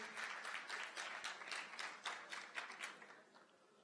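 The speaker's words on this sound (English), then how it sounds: "Put a round of applause." A round of applause from the audience at the Samsung Galaxy S7 launch event in Bahrain, faint and distant, steady clapping that tapers off toward the end.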